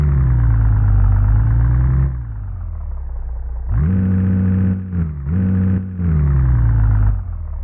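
A car engine revving under acceleration in the Virtual Driving School video game, a loud steady droning hum that drops back, then climbs again with a couple of brief dips.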